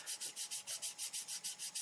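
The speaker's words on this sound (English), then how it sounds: "So what I'm doing is I'm just sanding it off" Steady back-and-forth sanding on a rough plastic part of an Airfix 1/48 Gloster Javelin model kit, about a dozen even rasping strokes in a quick regular rhythm, close and fairly quiet.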